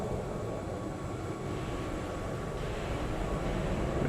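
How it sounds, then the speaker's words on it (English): Steady, broadband jet rumble of an EasyJet airliner approaching Frankfurt in Microsoft Flight Simulator 2020, a continuous low roar holding constant loudness throughout with no talking. "This is the EasyJet coming in from London Heathrow, of all places."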